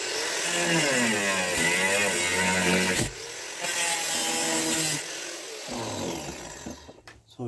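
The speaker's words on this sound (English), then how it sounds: "I've run the grinder all around the edges of the boot floor" An angle grinder cuts through the rotten boot floor of a 34-year-old Land Rover Discovery 1, with a sustained metallic whine that shifts in pitch as it bites, breaking off briefly and trailing into scraping near the end.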